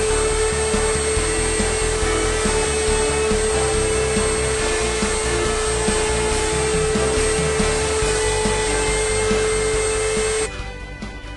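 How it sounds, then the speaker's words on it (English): A router on a router table spins a 45-degree bit that chamfers the edges of wooden blocks, a loud, steady, high whine running unbroken before cutting off near the end. "chamfer the edges of the blocks using a 45-degree router bit on my router table"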